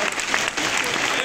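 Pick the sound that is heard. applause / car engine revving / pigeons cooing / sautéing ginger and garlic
applause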